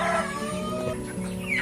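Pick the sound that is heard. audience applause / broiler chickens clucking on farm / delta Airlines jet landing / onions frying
broiler chickens clucking on farm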